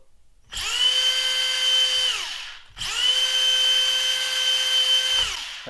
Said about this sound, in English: brushed stock motor, the Revenge of the Monster Pro, it's called Revenge of the Monster Pro, the 4 magnet version